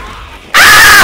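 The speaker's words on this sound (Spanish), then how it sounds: "Perdón por ese grito." A player lets out a sudden loud, sustained scream while playing PVZ Garden Warfare, cutting in abruptly after quiet game sound and holding at full strength to the end.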